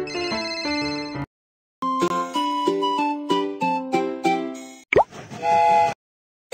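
A cartoon phone rings with a cheerful synthesized melody in two bursts separated by a short silence, followed by a brief bubbly plop and a few chiming notes.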